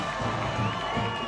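Spectators at a UCLA vs USC women's water polo match cheer steadily from the stands, a dense, continuous roar of many voices that holds at a constant level throughout.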